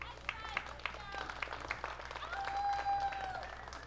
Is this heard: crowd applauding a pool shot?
yes